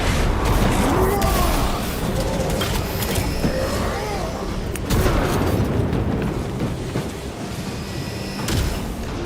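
A frag grenade and heavy combat in Warhammer 40,000: Space Marine 2 rumble through a loud, dense battle mix, with booming blasts around the five-second mark and near the end over constant low roar and gunfire.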